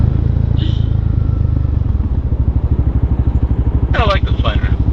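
A Can-Am Spider three-wheeled motorcycle rumbles with a throbbing, pulsing engine beat that grows more distinct as it rolls by nearby, with people talking over it and a brief high squeal near the end.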